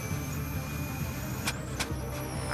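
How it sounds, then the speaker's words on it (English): A Formula E race car in qualifying at the 2022 Seoul E-Prix bottoms out against the track. Two sharp thumps land over a steady onboard motor drone. "that noise you heard, that was right where Jake Dennis sits with the small of his back hitting the ground"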